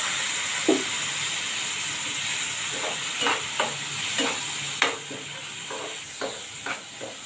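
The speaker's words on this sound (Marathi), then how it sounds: "इथे फोडणी मी चांगली परतून घेते" Spices tempering in hot oil in a pan with hot water added for a paneer bhurji, a steady steamy hiss and sizzle broken by several sharp spatula scrapes and stirs, close and loud.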